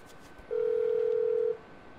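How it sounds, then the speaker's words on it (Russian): A single steady telephone tone sounds for about a second during phone dialing in Grand Theft Auto 5. It is clean and moderately loud over a quiet background, with no talk. "Давай я сам позвоню тебе."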